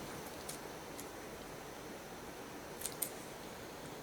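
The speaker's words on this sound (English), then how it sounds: "Now I think I will trim the ribbon a little bit." Scissors snip through a ribbon during a papercraft project, a few short crisp cuts near the start and a quick double snip later against quiet background hiss.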